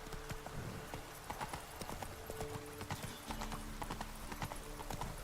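A horse galloping across terrain in The Witcher 3 game, with steady, rapid hoofbeats that continue throughout and stay close and clear.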